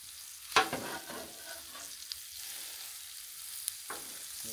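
Tri-tip steak sizzles on a griddle with a low, steady hiss, punctuated by a sharp scrape near the start and a couple of faint clicks later on.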